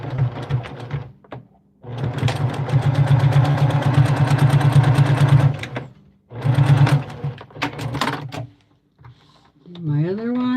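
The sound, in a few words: sewing machine stitching a bowl cozy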